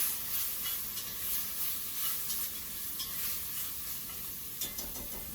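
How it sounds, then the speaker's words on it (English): Vegetables coated in tomato paste sizzle and fry steadily in a pot while being stirred, a continuous close crackle with occasional scraping accents and no talk. "really give that a nice stir until all the veggies are coated with the tomato paste"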